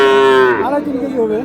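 A Sahiwal cow at a cattle market gives one loud, close, drawn-out moo that starts steady and tails off in wavering pitch.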